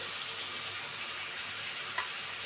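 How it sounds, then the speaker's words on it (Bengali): Vegetables with cabbage and a little turmeric frying in a pan, a steady soft hiss of sizzling with a faint clink near the end. "এগুলো একটু ফ্রাই করে নেব।"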